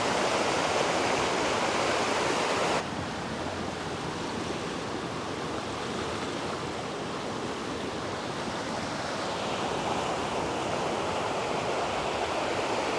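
Water pours out of Mammoth Spring in Arkansas, a loud, continuous broadband roar like a waterfall or rushing stream, close and steady for the whole stretch, with no talking.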